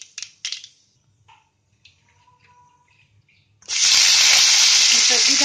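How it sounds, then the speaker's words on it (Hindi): Panch phoron spices drop into hot oil in a kadhai and burst into a loud, bright sizzle that runs steadily to the end, following a few quiet clinks and taps of utensils. "हमने कढ़ाई को गर्म करने के बाद इसमें ऑयल डाल दिया है और इसमें ये 5 फोरन डाल देंगे।"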